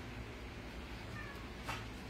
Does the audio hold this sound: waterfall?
no